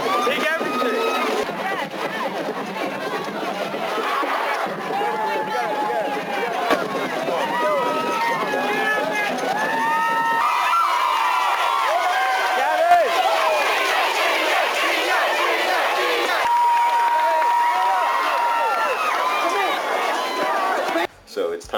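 A dense pep rally crowd cheers and shouts continuously, with a steady roar of many voices and no clear gaps throughout.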